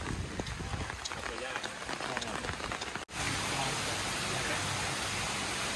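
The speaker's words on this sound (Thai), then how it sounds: "ฝนตกหนักฮะ" Heavy rain pours down on the Canyon golf course, a dense, steady hiss of drops beating on surfaces that briefly cuts out midway, then returns louder and fuller.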